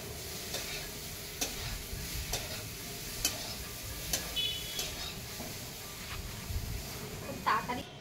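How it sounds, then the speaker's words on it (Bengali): Cauliflower frying in a pan over a village wood-fire stove, a soft continuous sizzle broken by regular light clinks and scrapes of stirring, with a voice talking faintly in the background. "তো এইখানে ফুলকপি ভাজাটা হচ্ছে"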